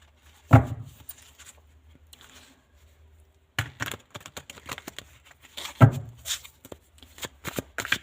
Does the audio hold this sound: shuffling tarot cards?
yes